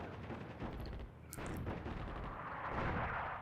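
Battle gunfire in the North Africa wargame Attack at Dawn, with tanks and infantry engaged: a dense, continuous roar of shots and rumbling blasts, loud and unbroken throughout.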